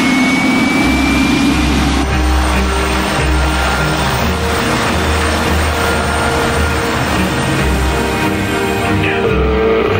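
Jet engines roar loud and close during an immediate alert takeoff, a steady heavy rumble with a rising whine that holds through the whole stretch, with no talking heard.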